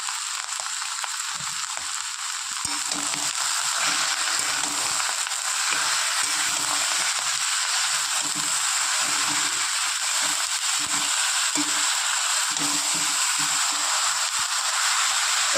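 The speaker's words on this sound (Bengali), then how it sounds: "ভাজা ভাজা করে এমনি মাছের তেলটা গলে যায়" Brinjal frying in melting fish fat in a pan gives a loud, steady, hissing sizzle that runs unbroken, close up, with no talking.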